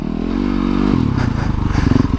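A supermoto motorcycle on tires that dislike wet ground slides along, its engine droning steadily and then rising in choppy, pulsing revs, with close clattering and scraping mixed in.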